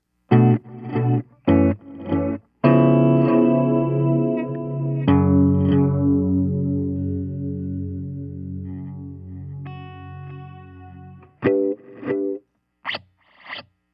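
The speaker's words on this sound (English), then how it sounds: "I also want to turn the diffusion all the way down, which is kind of a cool sound" Chords played through heavy reverb with diffusion turned all the way down, giving distinct, grainy echo repeats, sustained and decaying, broken by short choppy stabs; sounds metallic and sci-fi.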